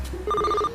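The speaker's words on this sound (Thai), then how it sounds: "เห็นโทรศัพท์ดังอีก" A single short burst of rapid telephone bell trilling, close and clear, in a quiet room.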